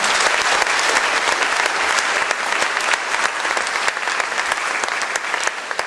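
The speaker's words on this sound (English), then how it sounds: "that deserves a round of applause" At a university convocation, a large audience gives a loud, sustained round of applause for national business plan competition winners, dense crowded clapping with sharp individual claps standing out, no talking.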